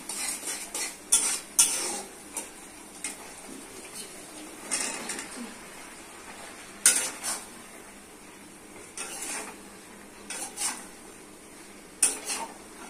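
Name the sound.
stirring okra, potato and tomato with spices in a pan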